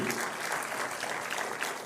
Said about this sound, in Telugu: గట్టిగా చప్పట్లు కొట్టి అందరూ ఆశీర్వదించండి